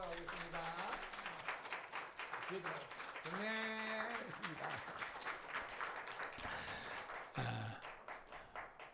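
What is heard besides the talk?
applause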